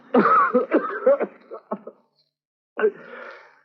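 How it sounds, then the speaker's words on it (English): A person coughs repeatedly in a rough fit, close by, then pauses before a final shorter cough. "It's that blasted cough"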